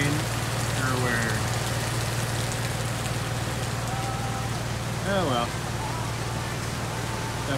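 Steady rain pours outdoors on dry, dead grass at an off-road riding spot, a constant hiss filling the whole stretch while a person speaks briefly over it.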